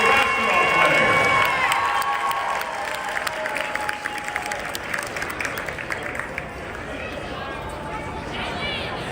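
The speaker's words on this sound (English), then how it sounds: "Another big round of applause for our senior girls basketball players." Crowd applauding and cheering in a high school gym on girls basketball senior night, a loud wash of clapping and shouts with chatter and some children's voices that gradually thins out.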